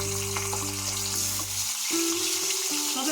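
Salted hilsa fish heads sizzle and crackle steadily in hot mustard oil, a loud continuous frying hiss with a low hum from the stove beneath.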